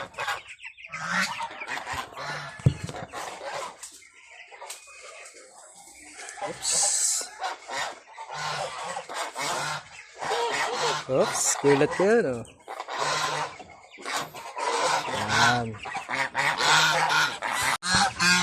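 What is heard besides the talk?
geese honking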